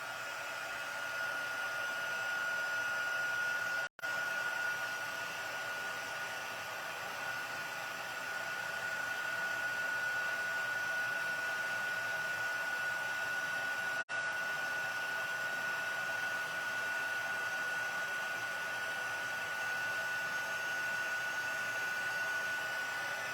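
A heat tool blows a steady, loud whoosh while melting embossing powder for a decorative mask stamping technique, running continuously with two brief cutouts and no talking.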